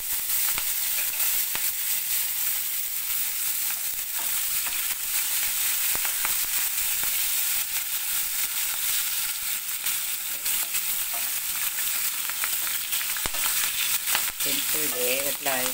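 Urad dal, ginger, green chili and curry leaves fry in hot oil for upma, a loud continuous crackling sizzle with scattered sharp pops and a few stirring scrapes near the end.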